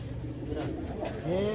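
Pigeons coo softly in a loft, their low gurgling calls rising near the end amid a dense, noisy background with someone talking over them.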